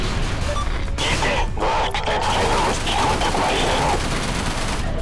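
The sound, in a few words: missiles firing in video game Everspace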